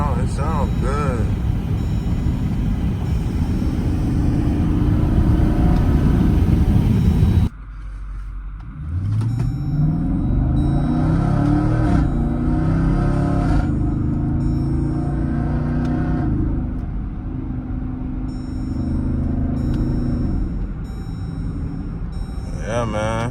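Up close, a 2014 Jeep Grand Cherokee Overland with a straight-piped Hemi gives a couple of loud rising revs that swell and fall off into a deep idle rumble, with people chatting around it.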